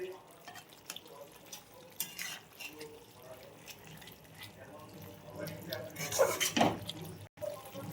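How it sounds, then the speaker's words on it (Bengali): Spoon stirring small morla fish into gourd greens cooking with poppy seed in a pot, soft scraping and bubbling sizzle, with someone talking over it and a louder clatter toward the end. "এটা একটু ঘেটে দিয়ে সব জায়গাটায় দিয়ে দেবো আমরা মাছগুলো।"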